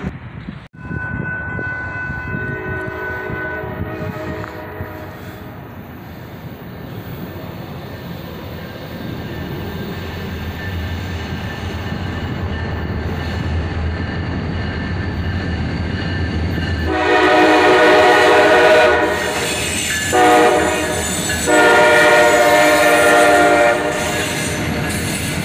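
A southbound manifest freight train led by three SD43 rebuild locomotives rumbles past, its low rolling noise building steadily before loud horn blasts sound in the final seconds, with wheel clatter beneath.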